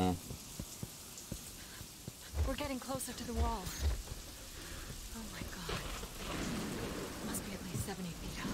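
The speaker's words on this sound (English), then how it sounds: "it's raining" Soft rain patters steadily in the background of the video game Peter Jackson's King Kong while a person talks intermittently over it, with occasional thuds and a faint low rumble.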